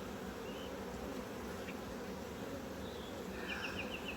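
Honey bees buzz steadily around stacked hive boxes in a privet-blooming yard, a dense continuous drone with brief higher insect whines passing close by, no voices.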